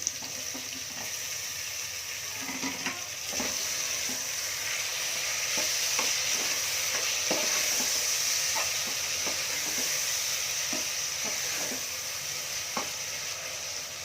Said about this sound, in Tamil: 3 தக்காளி போடுறேன் நான்.